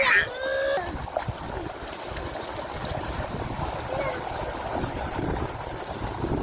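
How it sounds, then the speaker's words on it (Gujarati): Water swishes and splashes continuously as children swim through a flowing irrigation channel, with a brief high voice at the start and steady gurgling after. "ધોરિયામાં તરી રહ્યા છે"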